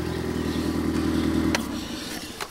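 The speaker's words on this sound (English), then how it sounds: "it doesn't sound good. So, yeah, definitely something is wrong with the motor" A blown Ford Focus ST engine with a misfire idles roughly, a steady uneven low throb and rattling clatter close by for about a second and a half, then cutting out to quieter rumble with a couple of sharp clicks.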